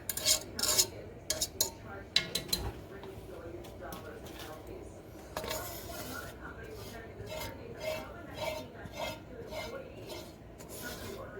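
Homemade beef stew gravy stirred in a pot, a spoon scraping and rasping against the metal in steady repeated strokes with occasional clinks, close and moderately loud throughout.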